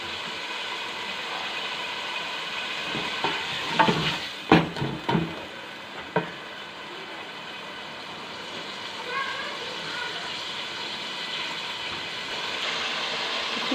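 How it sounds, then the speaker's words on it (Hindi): Tomatoes fry in masala in a pan for a chana recipe, a steady hiss and sizzle running throughout, with a few clattering stirs near the middle, moderately close and fairly quiet. "अब हम अपने टमाटर इसके अंदर डालेंगे और इसको अच्छे से फ्राई कर लेंगे।"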